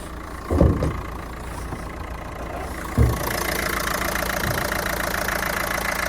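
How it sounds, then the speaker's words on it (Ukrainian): The 1.5 dCi diesel engine of a 2012 Renault Megane idles steadily at a low rumble, with a couple of brief thumps near the start, and no one speaking. "Робота двигуна."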